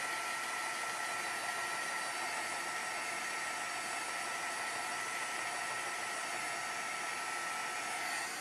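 A hair dryer blows over a wet watercolor painting, a steady, close, continuous whooshing whir that runs unbroken from start to finish with no voices.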